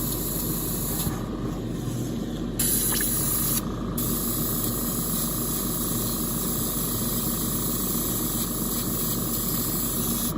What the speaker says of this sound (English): My airbrush is sputtering again.